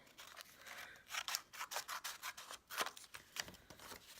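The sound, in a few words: cutting the top off with scissors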